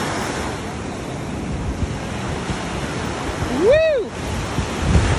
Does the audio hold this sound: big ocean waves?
yes